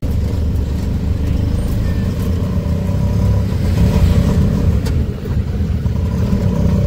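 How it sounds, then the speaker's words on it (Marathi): Auto rickshaw ride toward a station in Kharghar: steady, fairly loud low engine drone and road rumble from inside the vehicle, with a slight rise in revving midway, no talk. "बघा ही बघा रिक्षा, आता आम्ही चाललो इथून स्टेशनला."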